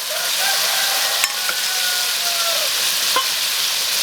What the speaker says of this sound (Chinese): 把茄子下锅